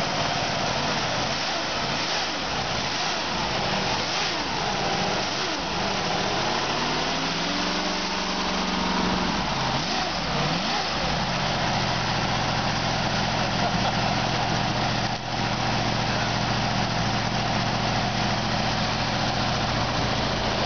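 A small-block Chevy V8 runs steadily just after startup, a loud, close, continuous engine drone with a slight shift in pitch partway through, then settling into an even idle.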